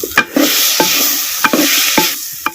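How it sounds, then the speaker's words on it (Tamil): Eggplant and potato pieces sizzle loudly in hot oil, close up, with a utensil scraping and stirring the pan in regular strokes. "சேர்த்த கத்திரிக்காயும் உருளைக்கிழங்கையும் அப்படியே எண்ணெயில் சுருள அப்படியே கிண்டி விட்டு"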